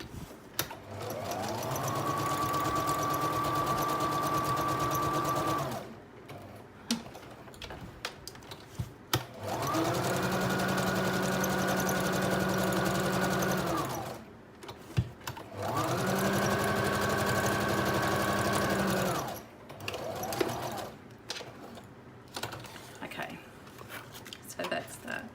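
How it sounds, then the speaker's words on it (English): A sewing machine whirs in three sustained bursts of stitching, each lasting several seconds, separated by quieter pauses with light handling noises. "That's a good little sewing machine."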